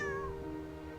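A cat in a children's story gives one clear, loud, drawn-out meow that falls in pitch, alone and close with no speech.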